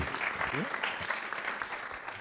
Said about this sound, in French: Ça s'applaudit évidemment